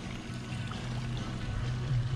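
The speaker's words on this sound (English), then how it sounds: "water's flowing" Steady water flowing through a homemade wood-fired pool heater, a continuous pouring, trickling rush with a low gurgling undertone, close and constant with no talking.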